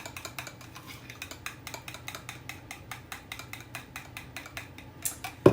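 A utensil scrapes and clinks rhythmically against a bowl while stirring stick-of-unsalted-melted-butter into blueberry muffin batter, steady close strokes repeating through the whole stretch with no talking.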